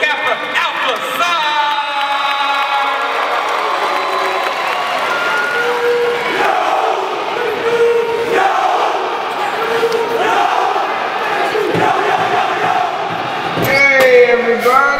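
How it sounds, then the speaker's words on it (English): A crowd at a Kappa Alpha Psi step show cheers, whoops and yells continuously, a dense loud roar of many voices with scattered shouts and a swell at the end. "Y'all start clapping right now. Make some noise for Kappa Alpha Psi."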